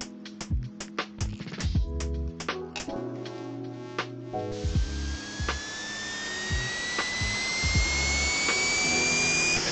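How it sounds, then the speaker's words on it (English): Retro game sounds from Raid Over Moscow: quick electronic bleeps and tones, then a steady rising jet turbine whine with a high sweep that holds to the end. "I do like the jet turbine sounds."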